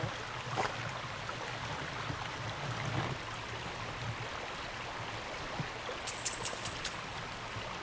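A small creek damaged by cattle flows in a soft, steady rush of water, heard quietly and continuously, with a few faint high chirps near the end.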